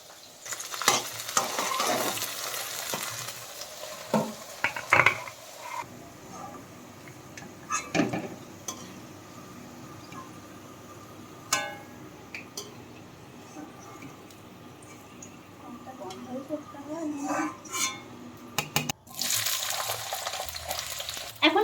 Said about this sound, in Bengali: এখন আমি বিনসগুলো ভেজে নিচ্ছি